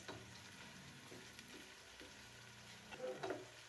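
Onions frying until light brown in a pan for Sindhi lotus stem and spinach, a faint steady sizzle with a few louder clinks and scrapes of stirring near the end.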